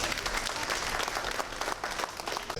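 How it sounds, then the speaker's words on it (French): Guests at an art exhibition opening of Chinese art at an airport applauding warmly, a continuous close crackle of many hands clapping at steady volume. "Vous méritez bien nos plus chaleureux applaudissements."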